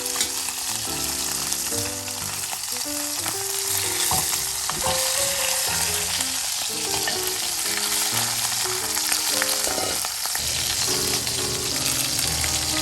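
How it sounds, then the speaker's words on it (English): Bone-in short ribs sear in a hot pan with a steady, close sizzle that holds for the whole stretch, while tonal background music plays beneath it. "so after each side is seared, well, including the bone"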